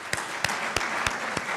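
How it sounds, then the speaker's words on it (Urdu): An audience applauds at a ceremony held at the Prime Minister's House, a dense steady wash of clapping with several sharper individual claps standing out at regular intervals. "ان کے لیے مہربانی کر کے بھرپور تالیاں لگائیں"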